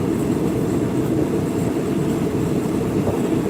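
A train crosses the Wampo Viaduct, a steady, loud low rumble of rolling wagons heard from on board, with an even continuous roar and no talk.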